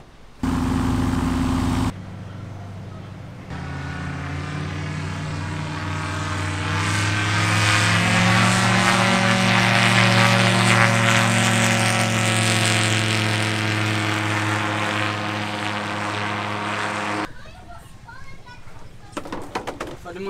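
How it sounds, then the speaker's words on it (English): An ultralight aircraft engine drones steadily as the plane takes off, building into a loud, sustained buzz that swells over about fifteen seconds and then cuts away, with brief other noise at the start and end. "Supermodel number one going up in the ultralight."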